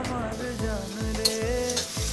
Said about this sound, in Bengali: এবার সবজিগুলো একটু নেড়ে চেড়ে ভেজে নিতে হবে।